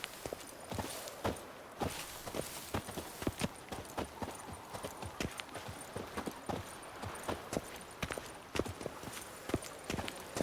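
Roach the horse's hooves clip-clop steadily at a walking pace on hard ground in The Witcher 3, close and distinct, with occasional faint background sounds and no talking.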